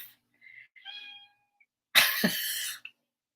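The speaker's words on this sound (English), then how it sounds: "Was he just meowing in the same key I did my ohm in?" A house cat meows softly a couple of times, thin drawn-out calls, then gives a louder, rough and breathy burst close by, all in a quiet room.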